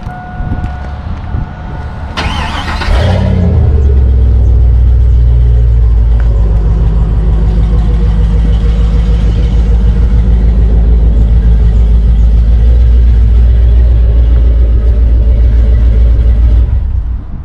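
A 1999 truck with its muffler cut out at the rear starts with a sharp crank, then settles into a loud, deep, steady idle rumble that runs on alone.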